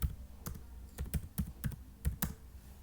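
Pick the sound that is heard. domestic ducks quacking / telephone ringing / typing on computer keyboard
typing on computer keyboard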